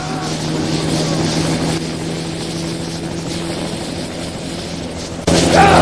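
A helicopter in a bootleg Famicom Tomb Raider game makes a loud, continuous whirring drone with a steady low hum. The noise holds constant and turns harsher near the end.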